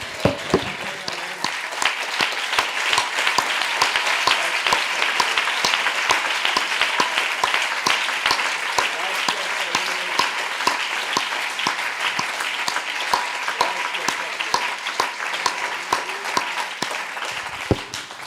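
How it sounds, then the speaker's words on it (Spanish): A church congregation gives the Lord a long, strong round of applause, a dense, steady roar of many hands with crisp individual claps popping through, sustained for nearly twenty seconds before tapering off. "Que sean fuertes esos aplausos para el Señor."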